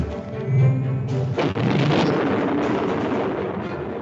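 Slug gun ships fire in a space combat game built with Fusion 2.5, producing loud booming explosions that roll into a sustained, rumbling barrage of blasts with no speech.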